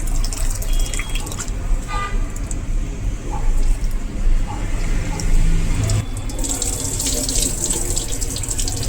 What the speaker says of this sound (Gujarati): સાંબાને જેમ ધોઈએ તેમ સફેદ થાય છે. બીજી વાર પણ ધોઈ લેશું.